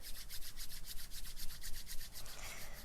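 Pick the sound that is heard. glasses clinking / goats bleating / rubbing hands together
rubbing hands together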